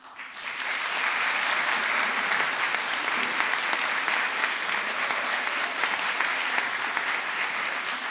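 A graduation ceremony audience claps in a hall, producing a loud, sustained round of dense applause that quickly builds and holds steady throughout.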